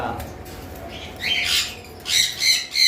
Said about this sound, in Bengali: একটা রেড এড অপালাইনের সিঙ্গেল পাখি আমাদের কাছে রয়েছে